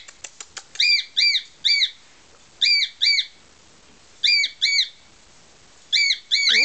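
A lutino pearl cockatiel gives repeated loud, clear squawks and chirps in pairs and short bursts, close by and separated by brief pauses, with a few soft taps at the start.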